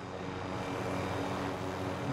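A helicopter in a video game drones steadily overhead as a constant, fairly faint broadband engine and rotor wash with no talking.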